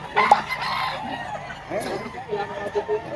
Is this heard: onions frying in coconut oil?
no